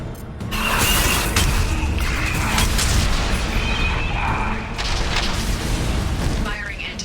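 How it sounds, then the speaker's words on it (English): Heavy anti-ship batteries firing in Mass Effect 2 against a Collector vessel, booming blasts and mechanical rumble sustained over several seconds amid dense game effects, with in-game voices talking over the barrage. "Firing anti-ship batteries."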